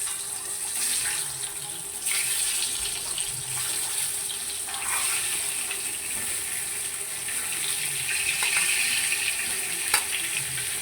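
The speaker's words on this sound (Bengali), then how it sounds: "এবার ভালো করে ডিমগুলো ভেজে নিব।" Ten boiled eggs fry in hot oil in a pan for egg do-pyaza, giving a steady bright sizzle with occasional stirring clinks and scrapes and a few sharper pops, with no voices heard.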